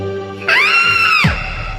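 A woman lets out a loud, sustained scream of fright lasting under a second, rising sharply and then breaking off, followed by a low rumbling thud; part of a Hindi horror story.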